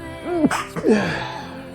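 A single sharp human sneeze with a quick inhaled gasp before it, close and loud, followed by a brief breathy tail.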